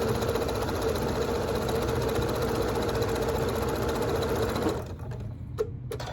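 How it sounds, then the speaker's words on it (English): Close, steady whir of a sewing machine stitching a quarter-inch quilt seam on scrap patchwork, running continuously for about five seconds before stopping, followed by a few faint clicks. "Sew down a 1/4 inch seam"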